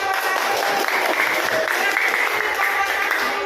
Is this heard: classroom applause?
yes